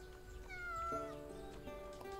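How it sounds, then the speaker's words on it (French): A cat in the farming game Everdream Valley gives a drawn-out meow over soft background music, close and clear with no talking. "Qu'est-ce qu'il y a, petit chat?"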